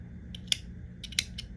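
Scissors snip through crochet yarn twice, a pair of quick metallic clicks at close range, each followed by softer ticks, against a quiet room with no talk.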